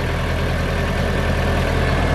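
A tractor engine runs steadily at idle, a close, even low rumble with a faint regular chug, with no voices over it.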